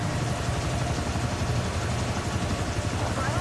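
Helicopter in the video game Call of Duty Cold War, a continuous low rotor drone with steady thrumming pulses, held at a constant level for the whole stretch without talk.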